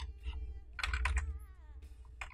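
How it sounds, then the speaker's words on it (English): Rapid clusters of keystrokes on a computer keyboard as text is entered in Adobe After Effects, close and fairly clear, with brief pauses between bursts over a low background hum. "now we will type whatever text we want over here"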